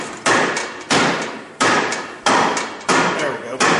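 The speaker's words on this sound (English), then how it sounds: "just going to tap that on through" Six sharp hammer blows at a steady, unhurried pace, each ringing and decaying, as a Honda TRX300FW ATV rear axle is tapped through its brake panel in a repair shop.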